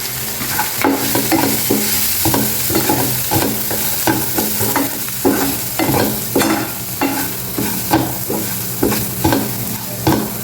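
Onions fry in a pan with turmeric, salt and chili powder, giving a constant sizzle. Repeated rhythmic clacks of a spoon stirring and scraping sound close, with no talking.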